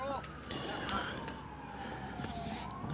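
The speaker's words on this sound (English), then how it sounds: "We hear sirens in the background." A faint siren wails far off, its tone slowly sliding, beneath low outdoor rumble at a football match, with a voice speaking nearby.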